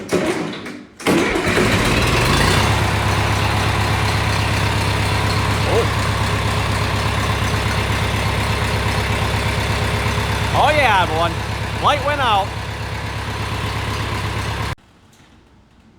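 A John Deere 2510 tractor's engine cranks and catches, then settles into a loud, steady idle up close, while someone talks briefly over the running engine near its end.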